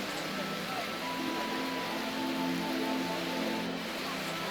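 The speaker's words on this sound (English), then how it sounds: "Oh no, it's raining." Rain falls steadily in the Japanese-setting video game Root Letter, a continuous broadband hiss with faint tonal game music running underneath throughout.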